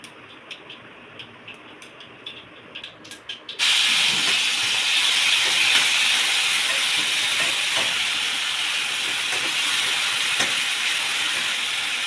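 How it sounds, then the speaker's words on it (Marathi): Mustard seeds and cumin hit hot oil for a potato bhaji tempering, setting off a sudden loud, steady spluttering hiss after a few seconds of quieter kitchen sound, continuing without let-up. "आता मी याच्यामध्ये थोडे मोहरी"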